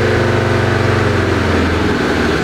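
A Land Rover Defender TD5 diesel engine idling steadily, a loud close low rumble with an even, unchanging throb throughout.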